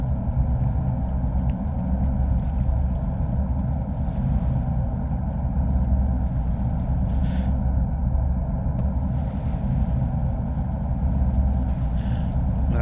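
Boat engines and churning propellers in the Deadliest Catch fishing video game, a steady, loud low rumble with wash and wind-like noise, unbroken throughout and with no talk.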